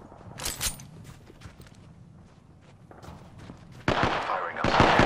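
Gunfire from an RE-45 pistol in the video game Apex Legends, a brief burst of sharp shots early on, scattered footsteps and clicks, then louder sustained firing toward the end, under a speaking voice.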